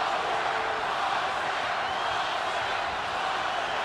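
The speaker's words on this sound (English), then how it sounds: "Crowd is chanting, Oscar, Oscar, Oscar." A large crowd roars at a boxing match between Bernard Hopkins and Oscar De La Hoya, with fans chanting Oscar's name in a steady, dense wash of many voices that does not let up.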